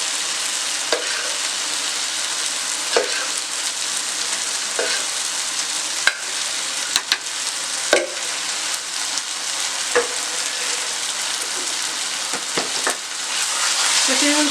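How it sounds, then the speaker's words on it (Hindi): Desi ghee sizzles steadily as kulfa saag is roasted in it, a continuous close frying hiss broken by occasional clinks and scrapes of a spoon. "इसमें अब मैं थोड़ा सा देसी घी डालूंगी"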